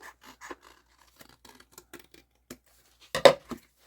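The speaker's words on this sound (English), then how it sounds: "Let's cut it just a little bit closer." Scissors snipping through paper for a watercolour journal, a series of soft, quiet cuts scattered across the moment, ending in a louder, closer rasping pair of strokes.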